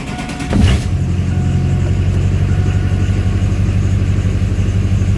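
A Duramax diesel pickup truck cranks briefly and fires up, then settles into a loud, steady rumbling idle heard close by.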